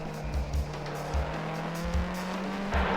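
Race cars, including a Sard Toyota Supra, pass along a racetrack straightaway with a steady engine drone and repeated low-pitched thumps, all at a constant moderate loudness.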